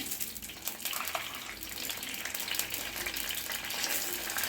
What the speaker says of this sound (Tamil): இதை நம்ம இதில் போட்டு லைட்டாக பொறிச்சுக்கிடுவோம்